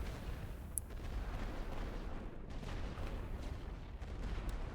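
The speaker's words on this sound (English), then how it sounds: "Let's hit the balloon again with heavy artillery while we're waiting." Heavy artillery fire in The Great War: Western Front strategy game, a dense, continuous low rumble of distant guns and booms rolling steadily throughout without any talk.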